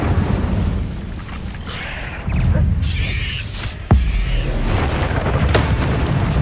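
Incendio fire spell cast in the Hogwarts Legacy video game, heavy booming whooshes of flame with a sharp burst midway over a loud, dense rumble of game sound.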